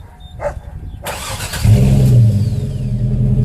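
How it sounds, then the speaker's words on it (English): A starter cranks briefly, then a pickup truck engine catches and settles into a loud, deep, rumbling idle close by. "I had a Flowmaster muffler installed, so here I'll start it and let you hear how it sounds"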